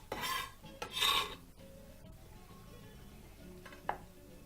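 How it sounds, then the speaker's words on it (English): Chopped coriander is stirred into a masala sauce with a few quick raspy scrapes and rubs of a utensil against the pan, followed by quieter shuffling and a small clink. "Now give that a quick mix"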